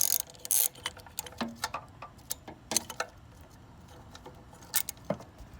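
A ratchet tightens the battery terminal bolts on a Honda S2000, making close, irregular bursts of sharp metallic clicks with short pauses between strokes. No one speaks.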